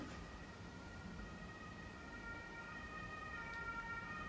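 An emergency vehicle siren sounds on a residential street outside, a steady, faint wail carried over a constant low hum of background noise with no speech.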